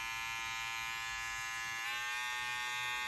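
A DSP electric bald head shaver runs steadily with a constant high-pitched motor whine and buzz, close to the microphone and alone; a slight shift in pitch comes near the middle.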